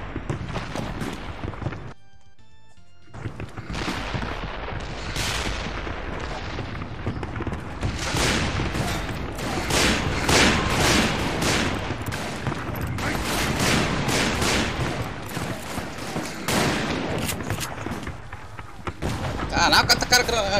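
Explosions and gunfire from the Wild West shooter Call of Juarez: Bound in Blood, dense bursts and booms rolling almost continuously at close range, with a short quiet gap early on and a voice talking over parts of it.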